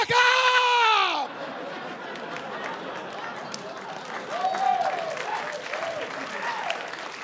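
Comedy-club audience at a stand-up show claps and whoops after a punchline, starting with a loud scream and settling into steady, moderate applause with scattered shouts.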